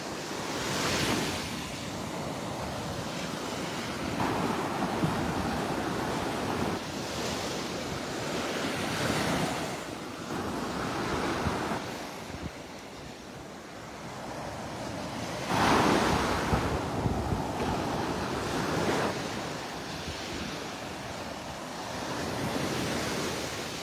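Ocean waves wash onto the beach at Delnor-Wiggins, a steady broad surf roar swelling and easing in repeated surges, mixed with some wind rumble against the microphone, with no voices.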